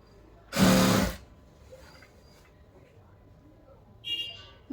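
A sewing machine runs in one loud, short burst of about half a second while stitching folded frock fabric, followed by quiet room noise and a second, fainter mechanical whir near the end.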